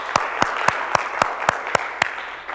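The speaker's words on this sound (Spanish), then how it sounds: "Denle un aplauso, por favor," Slow, evenly spaced claps during a Spanish church service, about eight sharp hand claps at a steady beat over a low background hum.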